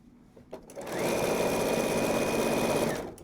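A sewing machine runs steadily while stitching binding onto a quilt, a continuous close whirring hum for about two seconds after a brief start, then stopping.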